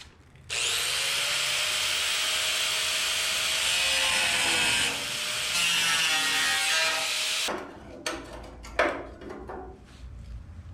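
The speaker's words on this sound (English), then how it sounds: "I'm gonna try to cut this out, or as much as I can anyhow, with the old grinder first" An angle grinder cuts into sheet metal on a 1977 Datsun 620, spinning up to a loud, sustained, high whining grind that shifts pitch as it bites. It then stops, followed by a few clanks and knocks as the piece comes free.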